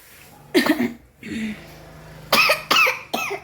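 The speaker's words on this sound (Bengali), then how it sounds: "একেবারে রান্না পুড়িয়ে ছুড়িয়ে করেছে ওই জন্য কাশি হয়ে গেছে" Coughing fits triggered by smoke from burnt cooking in a home kitchen: a short burst, a softer cough, then three sharp close coughs in quick succession.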